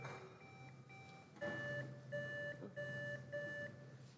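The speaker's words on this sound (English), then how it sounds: "could we do a quick buzzer check, starting at my right, working our way across" Quiz competition buzzers at a middle school science bowl final being tested one after another, a series of short electronic beeps and tones in quick succession in a quiet hall.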